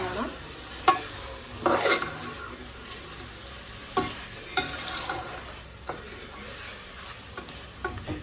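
Mutton frying with ginger garlic paste in a pan, a soft steady sizzle punctuated by a handful of spoon scrapes and stirring knocks, close up and with no voices.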